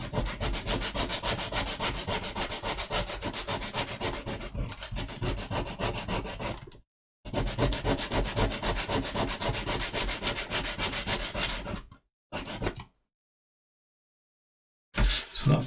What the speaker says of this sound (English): bring it across with sandpaper and just put in a little chamfer